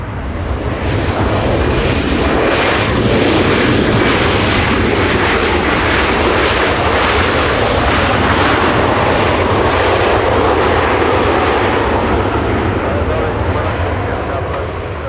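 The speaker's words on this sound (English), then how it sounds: "Delta 1221 flying in from Detroit, Michigan, the next arrival" A Delta airliner, flight 1221 from Detroit and likely an A321, arrives at Los Angeles International Airport with a loud, sustained jet engine roar that swells and holds throughout, fading slightly at the end.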